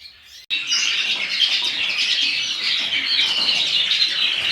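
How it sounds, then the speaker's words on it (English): Young canaries chirping and tweeting together in a flight cage, a dense, steady chorus of bright calls from many birds after a brief quiet start, close and continuous. "all my young canaries are all housed in these cages here"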